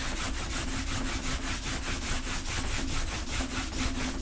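Wax is rubbed into a leather deadlifting strap with quick, rhythmic back-and-forth strokes, a steady scratchy friction sound close up, about four strokes per second.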